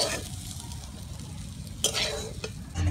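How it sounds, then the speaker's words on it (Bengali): Vegetables sizzle steadily as they fry in a pan while a utensil scrapes and stirs through them, with a few sharper clanks toward the end. "সব কিছু ভালো করে ভেজে নেব। সবজি ভালো করে ভেজে নিয়েছি"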